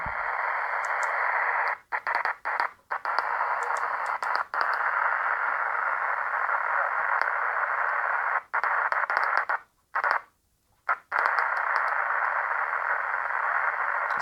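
A faint 438.875 MHz radio repeater signal from about 40 km away comes through a steady hiss of static, with brief dropouts where the carrier cuts in and out.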